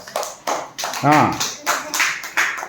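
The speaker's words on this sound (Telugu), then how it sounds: "చప్పట్లు కట్టండి" Primary school children in a classroom clap in a quick rhythmic run of sharp claps, with voices speaking over them.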